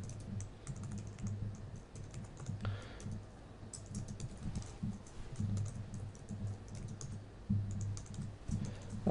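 Steady clicking of a computer keyboard as an equation is typed into a search box, fairly quiet, with irregular bursts of keystrokes and brief pauses, no voices.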